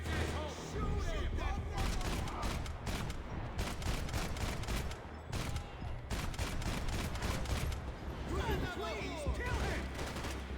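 Gunfire in a Max Payne shootout: dense, rapid bursts of shots and automatic fire crackle close and loud across the whole stretch, overlapping with shouting voices and game effects.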